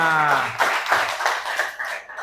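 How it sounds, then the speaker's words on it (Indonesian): Classroom applause for a student, a short burst of clapping hands that fades over about two seconds, with a voice talking briefly at the start. "baru tepuk tangan buat temannya"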